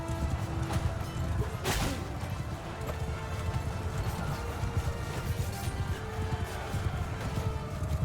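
Cavalry horses galloping across a battlefield in Mount & Blade II Bannerlord, a dense, continuous rumble of many hooves under the din of battle and occasional voices, steady and loud throughout.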